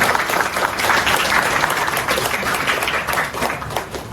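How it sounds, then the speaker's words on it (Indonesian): Audience applause at an umrah pilgrimage preparation seminar, a dense, steady wash of many hands clapping that holds at an even, fairly loud level throughout. "Ya, kita kasih tepuk tangan dulu untuk beliau."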